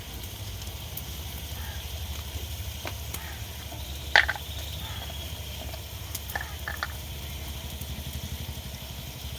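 Bengali village-style greens (shak) seasoned with five-spice, salt and turmeric frying in a pan, giving a steady close low sizzle and crackle throughout, with a brief louder stirring clatter partway through.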